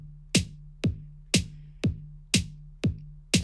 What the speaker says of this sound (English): Snare drum landing on 2 and 4. So skip 1, skip 3, have it on 2 and 4 instead.